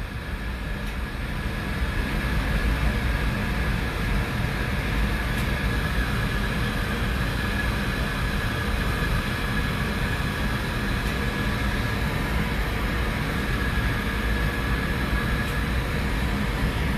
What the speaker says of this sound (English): The train has almost stopped at, well, it's going very, very slow on the track.